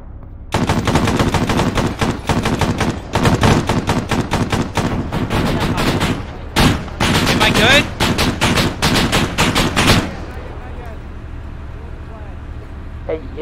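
A vehicle-mounted machine gun in Arma hammers out long, loud, close bursts with brief pauses, a short gap near the middle, then cuts off as an engine rumble carries on beneath.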